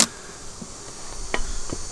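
A dense, steady buzz of many agitated honeybees close by around a hive, with a few faint clicks and taps breaking through the hum.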